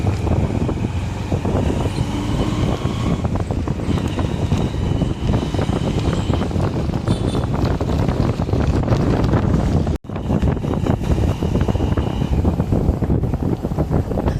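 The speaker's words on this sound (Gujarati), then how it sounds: "જો અહીંયા ઠંડી ઠંડી હવા આવ્યો." Cold wind blowing hard across the microphone outdoors near a dry river, a constant loud buffeting rush with a brief dropout partway.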